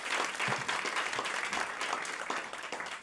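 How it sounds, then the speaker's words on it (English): Warm audience applause welcoming speaker Jennifer Burney to a talk on food and sustainability: brisk, dense clapping from a sizeable crowd, steady and loud for a few seconds before starting to taper. "Please give her a huge round of applause."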